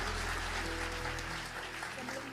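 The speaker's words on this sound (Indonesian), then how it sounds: "Tepuk tangan yang meriah buat Tuhan kita Yesus." A church congregation claps during a sermon, a soft, diffuse applause heard at a distance, with sustained music tones running beneath it.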